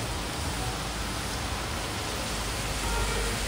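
Steady rain falls outdoors during a rainy morning, a continuous even hiss of drops that stays constant throughout, moderately faint and unbroken with no voices.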